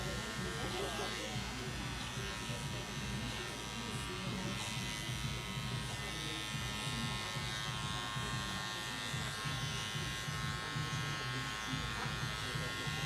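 Electric clipper buzzing steadily and close while trimming and shaping a big beard in a barbershop, a continuous hum with a voice talking over it.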